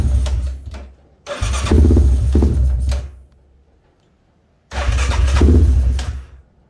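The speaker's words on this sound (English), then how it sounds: "Put a new plug in it, and the bike cranks and tries to run" A motorcycle with a new spark plug and a wiring harness and rectifier fault cranking and briefly catching, two loud bursts of engine noise separated by silence, each dying out without keeping running.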